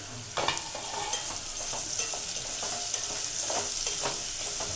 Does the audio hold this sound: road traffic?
no